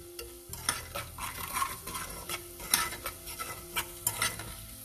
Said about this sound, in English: add these dry masalas into the oil all together. Saute this for a minute.